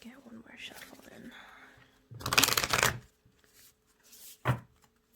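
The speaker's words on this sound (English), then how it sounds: "Let's get one more shuffle in." A quick riffle of cards being shuffled follows soft whispered speech, then a lighter tap of cards near the end, all close and quiet.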